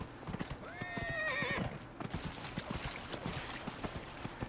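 A video game horse whinnies loudly with a rising, wavering call, while a steady clip-clop of hooves keeps up throughout.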